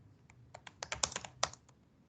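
Quick, faint clicks of a computer keyboard being typed on in a short burst, keys tapping unevenly at close range in a quiet room, no voices.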